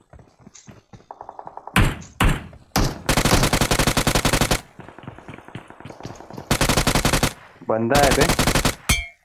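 Loud bursts of automatic gunfire in the mobile battle royale game BGMI rattle in rapid, repeated volleys separated by short gaps, with a brief spoken remark early on.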